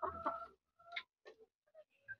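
Young Filipino chickens, three to seven months old, cluck in short separate bursts while feeding, fairly close and quiet, with no talk.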